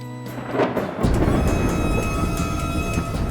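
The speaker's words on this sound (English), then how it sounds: "sailors are trapped in a dangerous storm" Heavy thunder rumbles into a loud, sustained roll of a thunderstorm with rain, building after a quieter opening and staying strong to the end.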